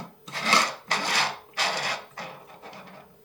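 The combination dial of a 3D printed plastic secret safe is turned in four separate rasping, ratcheting sweeps, close and dry with short pauses between each turn.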